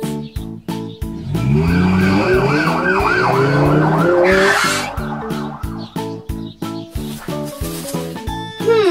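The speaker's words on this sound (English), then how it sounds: "Ambulance." An ambulance siren wails up and down over heavy rhythmic music and engine noise, loud and busy, fading near the middle as the beat continues.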